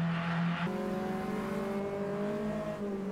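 A race car in Automobilista 2 slides through a technical corner while braking in the curve, its engine note dropping, then climbing steadily as it pulls out, with a brief hiss of tire scrub.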